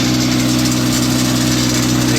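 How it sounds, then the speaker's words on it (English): A 1986 Suzuki Samurai engine with a bad exhaust leak idles up close, a steady loud rumble with rapid ticking exhaust pulses, alone with no talk. "Exhaust leak right there. It's pretty bad."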